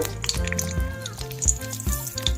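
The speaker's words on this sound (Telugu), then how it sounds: "ఆవాలు వేసుకుంటేనే చెట్పట్లాడి అవి పగిలితేనే ఏ పచ్చడికైనా సువాసనగా ఉంటుంది" Mustard seeds crackle and pop in hot oil while tempering a wood apple chutney, a close, continuous sizzle scattered with small sharp bursts throughout.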